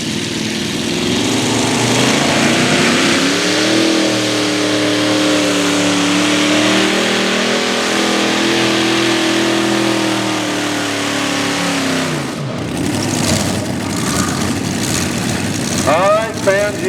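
Modified pulling tractor with multiple engines, one running extra fuel, roars loud and close in a long sustained howl at a tractor pull, pitch rising and holding, then cutting off before a sharp rev burst.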